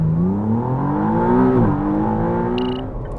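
A 2023 McLaren Artura accelerates hard: a loud, close engine note climbs steadily in pitch, drops briefly at a gear change, then pulls upward again, with no talking.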